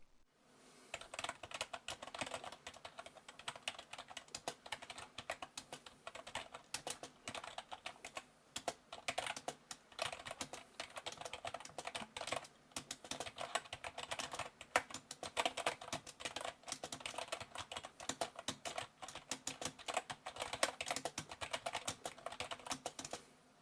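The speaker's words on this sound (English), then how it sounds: "what membrane keyboard sounds like, here's a quick sound test for you" Soft, muffled membrane keyboard typing runs continuously, a rapid patter of dull key presses with no voices, close and fairly quiet.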